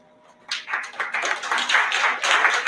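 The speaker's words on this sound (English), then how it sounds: "Big round of applause for them." Audience applause at a chess tournament prize ceremony, bursting in after a quiet moment and continuing as steady, full clapping from a crowd close by.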